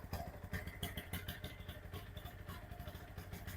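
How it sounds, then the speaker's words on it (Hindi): A Bajaj Pulsar NS160 engine at full throttle, with a check-engine light on and a suspected TPS sensor fault, runs with a rough, pulsing rhythm as its revs rise and fall unevenly. It is moderately loud, and nobody talks. "फुल थ्रोटल दे रहे हैं, आरपीएम इसका फ्लक्चुएट कर रहा है, आरपीएम कम बेसी हो रहा है।"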